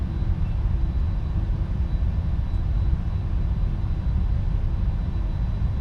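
A PMDG Boeing 747-400 cargo jet in the Prepar3D flight simulator taxis at Schiphol, a loud, steady low engine rumble that holds unbroken throughout.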